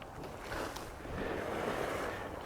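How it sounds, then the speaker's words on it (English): A hot geyser pool at Yellowstone's Norris Geyser Basin bubbles and boils with a continuous churning, gurgling roar, steady and fairly close, with some wind noise and no voices. "just bubbling and boiling"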